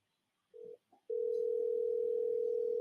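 A phone call connects with two short tones and then a single steady ringback tone that holds, clear and moderately quiet, with nothing else audible.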